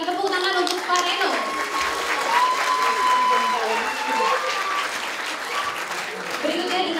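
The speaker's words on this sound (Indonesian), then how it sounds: "Boleh berikan tepuk tangan untuk Pak Reno." An audience at a press conference for the Satria Garuda Bima X series applauds for its creator, sustained dense clapping over seven seconds while a voice talks over it.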